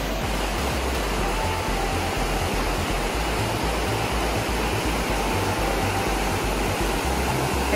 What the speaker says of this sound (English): the river is so loud, it's almost deafening